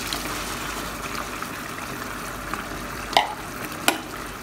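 Mixed vegetables being stirred into meat cooking in a pot, a soft, faint wet sizzle with a few sharp clinks of a utensil toward the end.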